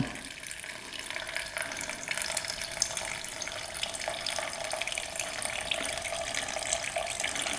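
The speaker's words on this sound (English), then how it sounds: "Gas is coming out." Gasoline runs steadily from a used motorcycle's fuel system after the petcock is turned to prime, a constant faint splashing trickle like a running tap with no talk over it.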